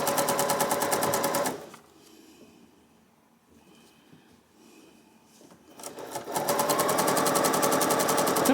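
Bernina sewing machine stitching quilt pieces, a fast rattling run of stitches that stops, leaves a quiet gap with faint handling, then starts up again at full speed.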